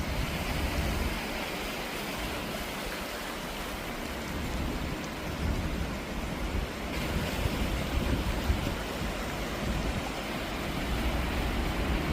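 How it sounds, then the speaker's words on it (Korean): Sea waves wash and splash continuously on the coast near Udo and Seongsan Ilchulbong, Jeju, a dense roaring surf with steady rushing water and no voices. "바닷물이 철렁철렁"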